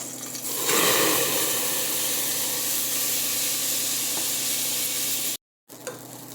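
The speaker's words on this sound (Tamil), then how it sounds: "நம்ம கழுவி வச்சுருக்கிற அரிசியை உள்ளே சேர்த்துக்கலாம்" Washed rice tips into sizzling ghee for ven pongal, setting off a loud, continuous hissing fry that is stirred throughout, with a brief cut to silence near the end.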